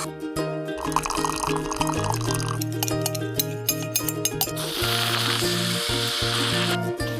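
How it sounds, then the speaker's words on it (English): A Nuova Simonelli espresso machine at work in a bakery café, with steady hissing and sizzling steam over a bed of low mechanical hum and clanks, growing into a loud sustained steam rush in the second half. "this is our Nuova Simonelli espresso machine"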